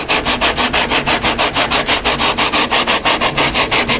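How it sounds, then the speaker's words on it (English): Steady rhythmic sanding with 80-grit paper across the glued seam of a wooden cheese cutting board, about eight quick back-and-forth strokes per second, close and loud throughout. "I'm just going to start working over that seam, and pretty quickly with this 80 grit"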